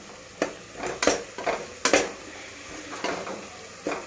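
A spoon scrapes and taps around a pan of fried masala as turmeric powder goes in for mushroom biryani, giving about eight sharp metallic clinks at an uneven pace over a faint background.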